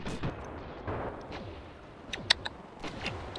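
A boulder turret fires in a video game, giving a few deep, heavy thuds and booms with a sharp crack partway through, spaced irregularly over a rumbling backdrop.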